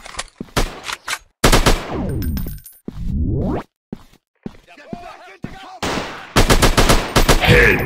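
Machine gun bursts from an Android army shooting game, loud dense rattles in several separate bursts with short pauses, game effects and a voice between volleys.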